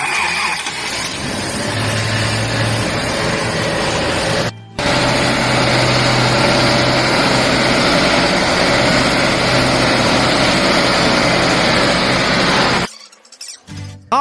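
An original GAZ-12 ZIM engine runs steadily at a strong, even level, with a brief cut partway through before it continues and then drops away near the end, close up with no talk.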